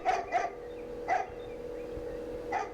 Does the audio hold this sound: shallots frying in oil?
no